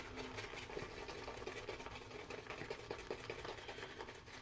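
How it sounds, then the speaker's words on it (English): Fougere-scented shaving soap is worked into a lather with a brush. A close, steady, wet, bristly swishing continues with a quick brushing rhythm at low volume. "it's lathering really, really well"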